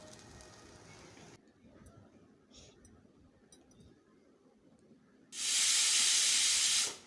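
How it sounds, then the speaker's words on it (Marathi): A pressure cooker on a home kitchen stove lets off steam, a loud, sustained hiss bursting in near the end and lasting about two seconds after quieter kitchen clatter. "कुकरचे शिटे झालेले आहेत"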